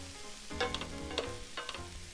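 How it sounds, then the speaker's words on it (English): Sliced Swiss brown mushrooms fry in a pan for beef stroganoff, a steady close sizzle with a few stirring scrapes and clinks, no talking. "Now we're just going to cook that down until the mushrooms start releasing their juices into the pan."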